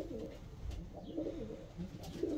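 Bursa oynar pigeons coo softly in a loft, a low, rolling, throaty murmur repeating close by over faint background noise.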